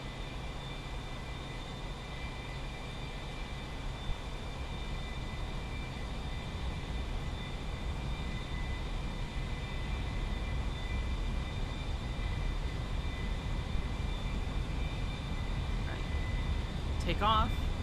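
An aircraft engine throttles up for takeoff with a loud, steady broadband roar and a high, whining tone held throughout. The noise builds only slightly over the run, and a brief chirping sound rises near the end.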